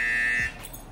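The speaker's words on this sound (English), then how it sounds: "they gotta hit the buzzer" A phone buzzer in a home quiz game sounds as one steady electronic tone, loud and close, held for about half a second before cutting off and leaving quiet room noise.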